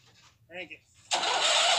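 A 2006 Huskee tractor engine cranks and suddenly catches, roaring loud and close right after a brief voice.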